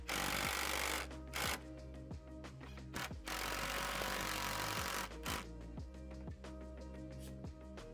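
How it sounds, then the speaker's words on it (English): Long 100mm screws being driven into trailer floor supports, repeated loud bursts of a power drill whirring and grinding, separated by short pauses and a lower steady hum. "Then we'll drive some longer 100mm screws in."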